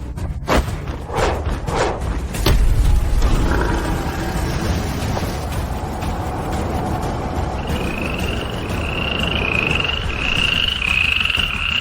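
Croaking frog sound effect used for a golden frog martial arts technique in a costume drama, with repeated deep croaks building into a sustained rising warble, loud and close, over a low rumbling backdrop.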